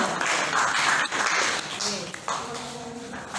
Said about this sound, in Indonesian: Luar biasa kelompok 3, kita tepuk tangan